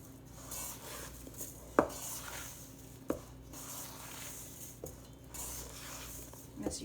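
A utensil folds fruit pie filling thickened with tapioca in a pan, making soft scraping and stirring sounds with a few sharp clinks against the metal, close and quiet.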